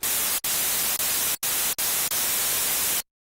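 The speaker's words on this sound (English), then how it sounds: "Over on this synthesizer, we do have noise on VCO2." Broadband hiss from the noise generator of a vintage 1970s Korg MS-20 or Roland SH-2 analog monosynth, steady and loud, cut by several brief silent gaps before stopping abruptly.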